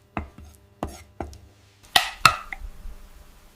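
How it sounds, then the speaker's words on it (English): Fresh dill is chopped with a knife on a cutting board, giving a handful of sharp, close thuds, three evenly spaced and then a quicker cluster of brighter chops before a faint tail of quiet. "finely chopped fresh dill adds an herbaceous note, a whisper of spring"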